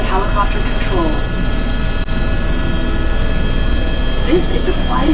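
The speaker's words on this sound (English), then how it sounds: "This is the quietest helicopter of its class in the world." Steady, droning engine and rotor noise inside a helicopter flying over Niagara Falls, constant and fairly loud throughout, with a voice speaking over the cabin hum.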